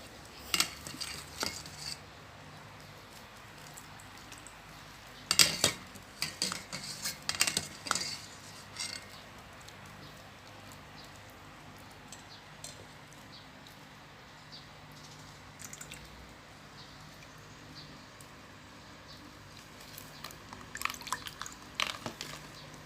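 Boiled young-coconut dumplings are scooped from a pot into a bowl of cold water. Faint, scattered splashes, drips and utensil clinks come in small bursts over a quiet background, with no talking.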